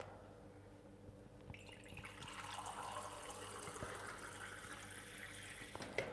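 Water is poured into a bowl of self-raising flour and corn flour for fried fish batter, a quiet steady splashing and trickling that starts softly and then grows fuller.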